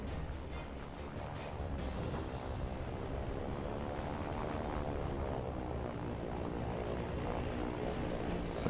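A propeller airplane drones steadily overhead in a WW2 anti-aircraft bunker game, a continuous throbbing engine hum that holds level without talk.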